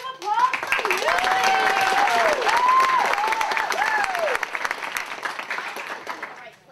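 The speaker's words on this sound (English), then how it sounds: "Let's hear a big round of applause for Lucy." A studio audience at a dating game show breaks into loud, steady applause for a contestant, with a few whoops and cheers rising above the dense clapping throughout.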